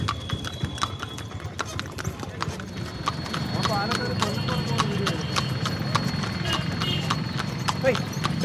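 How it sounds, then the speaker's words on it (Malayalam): A horse-drawn cart rolls along on a ride toward Palani in Tamil Nadu. Brisk, even hoofbeats clip-clop loudly and close, a steady rhythm throughout with road rumble and voices talking underneath. "ജീവിതത്തിൽ ആദ്യമായിട്ടാണ് കുതിര വണ്ടി കയറുന്നത്"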